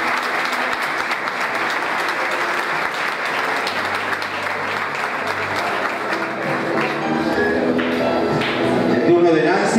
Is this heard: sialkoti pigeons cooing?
no